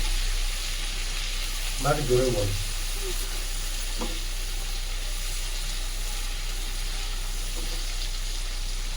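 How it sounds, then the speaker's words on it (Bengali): Onions fry in a pan with a soft, continuous sizzle. A brief stirring scrape and a faint voice come in early, then the frying carries on alone at a moderate level. "আমি পেঁয়াজটাকে একটু ভালো করে ভেজে নেব।"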